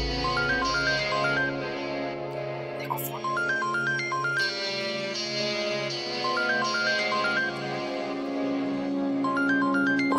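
A phone ringtone plays a repeating electronic melody over and over, steady and fairly clear, with faint background sound beneath it.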